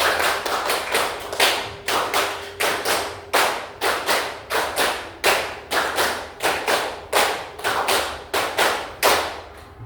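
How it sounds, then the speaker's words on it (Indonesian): A group claps in unison in a repeating rhythmic pattern of five quick claps followed by a short pause, loud and close, cycling steadily for about ten seconds with no talk. "tepuk 5, tepuk 5, tepuk 5 kali."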